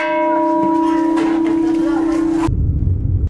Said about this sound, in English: every time you do you get to ding the bell